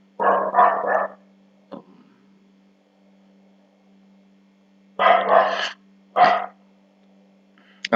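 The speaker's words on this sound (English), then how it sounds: "my dog, is actually making noise outside" A dog barks outdoors, muffled by distance, in two short bursts of quick barks several seconds apart, with a steady mains hum running underneath.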